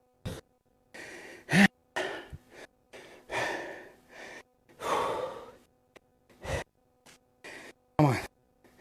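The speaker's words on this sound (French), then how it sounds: "On respire." Heavy panting and gasping breaths during a recovery pause in hockey training exercise, a series of short loud exhalations and sighs separated by silences, close to the microphone.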